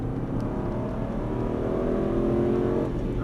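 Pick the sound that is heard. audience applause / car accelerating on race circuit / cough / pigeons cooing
car accelerating on race circuit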